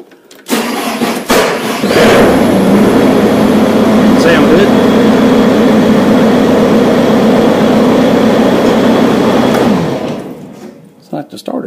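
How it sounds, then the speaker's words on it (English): A Bobcat track loader's starter cranks the engine with a sustained grinding whir for about nine seconds, loud and close, then cuts off with relays clicking in the background. "The starter's hanging just a little."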